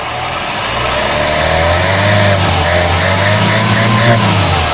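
The 1.3-litre engine of a 1985 Mazda 323 runs steadily just after starting, a loud, close, continuous hum that swells slightly partway through.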